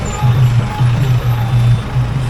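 Trucks on a road crowded with pilgrims walking with a palanquin procession, one close by giving off a loud, pulsing low engine drone with rhythmic beeps across the whole short stretch.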